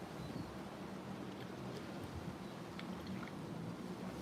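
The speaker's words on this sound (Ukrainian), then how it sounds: "Сьогодні вітряно трошки." Steady, rushing wind buffets the microphone, a constant roar with no speech and only faint scattered clicks.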